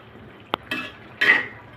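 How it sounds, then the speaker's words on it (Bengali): A spoon stirring boiled vegetables with sliced green chillies and salt in a pot: one sharp clink, then two short scraping stirs against the metal, close and fairly quiet. "দিয়ে ভালো করে নেড়ে চেড়ে নিব।"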